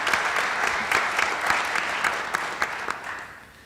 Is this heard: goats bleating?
no